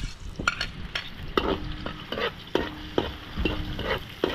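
Chicken tinola cooks over a wood fire, with a pot bubbling and sizzling under repeated scraping stirs and clinks of a utensil, close and fairly quiet with no talk.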